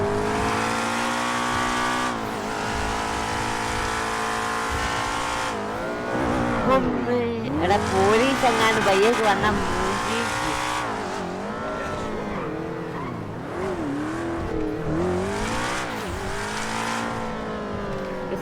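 A stolen BMW car in GTA 5 revving and driving fast with tires squealing through turns, a loud continuous engine under someone talking.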